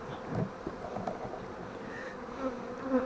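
Honey bees buzzing around a beehive after being shaken into it, a dense continuous hum with a few louder passes of individual bees nearby.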